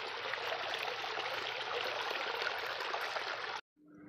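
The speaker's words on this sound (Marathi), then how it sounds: "थोडं पाणी वाहताना दिसतं बघा आपल्याला." A small stream of water trickles and flows at a hilltop fort in dry season, a soft continuous rushing wash, close and faint, that cuts off abruptly near the end.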